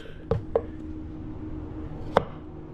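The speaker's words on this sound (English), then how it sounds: "First thing you want to do is cut off the ends." Knife chopping the ends off a squash on a cutting board: two quick sharp cuts close together, then a single crisp chop a moment later, close and clear over a quiet background.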